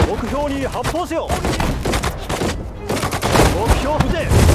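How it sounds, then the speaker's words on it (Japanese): Gunfire and artillery from the World War II strategy video game Sudden Strike 4, with dense overlapping volleys and bursts of shots and explosions continuing loudly throughout, under clipped in-game unit voice responses. "目標に発砲せよ。"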